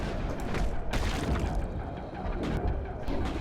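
Grenade blasts and gunfire in the Mass Effect video game, a dense run of loud, booming bursts with crackling debris, one heavy hit near the middle and more crashes toward the end.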